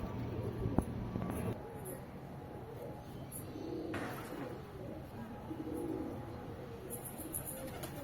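Soft, low pigeon cooing murmurs steadily through an outdoor setting, with a brief sharp knock near the start and faint chirps in the background.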